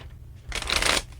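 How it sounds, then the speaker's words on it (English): Tarot cards being shuffled, a brief riffling burst of crisp card flutter lasting under a second, close and moderately loud with no talking. "3 more shuffles,"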